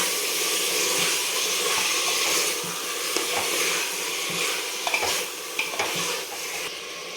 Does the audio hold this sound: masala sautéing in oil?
yes